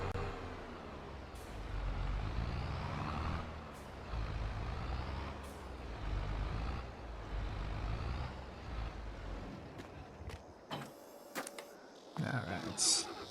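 A truck in a Mars terraforming game grabbing a trailer, heavy engine rumble under steady talk, then near the end a sharp hiss of released air and a few clanking hitch noises.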